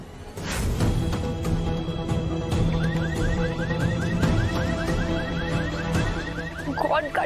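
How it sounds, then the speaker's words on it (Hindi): A car alarm wails from a parked vehicle, its repeating rising chirps cycling rhythmically over a busy, loud background of clatter and other noise, fairly near and persistent. "गाड़ी का अलार्म बजने लग गया"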